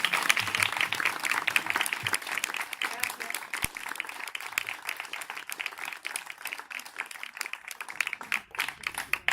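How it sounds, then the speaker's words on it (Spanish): An audience at a talk on eating disorders breaks into dense, sustained applause, many hands clapping at once and fairly steady throughout, moderately close. "Un aplauso enorme, ¿verdad?"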